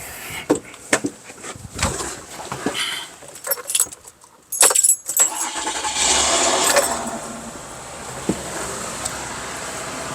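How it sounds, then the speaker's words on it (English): A Mazda V6 engine cranks and fires after a WOLFBOX 4000A jump starter is hooked to a dead battery, with keys jangling first and then a steady idle that settles in and carries on to the end. "I'm going to go back inside the vehicle and start it"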